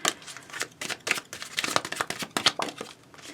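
A tarot card deck is shuffled by hand in quick, close, papery riffles and slaps, a steady run of crisp bursts with no talking.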